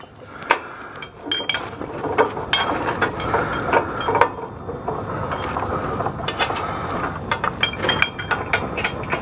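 Small metal snap pins clipped onto the mount of a three-point tractor backhoe, giving a run of sharp clinks and ratcheting clicks over steady outdoor background noise, with no talking.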